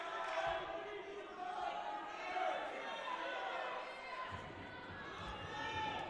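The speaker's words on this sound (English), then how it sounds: "Crowd making some noise here at the Arc Arena." A basketball arena crowd makes a steady, distant roar of cheering and chatter at a women's college basketball game, with the sound shifting slightly partway through.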